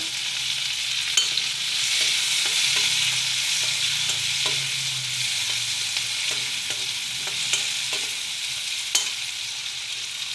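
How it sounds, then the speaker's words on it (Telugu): Onion pieces frying in oil while being stirred, a steady close sizzle with frequent clicks and scrapes of a spoon against the pan, no talking. "ఇది ఆయిల్లో ఉల్లిపాయలు ఫ్రై చేద్దామండి"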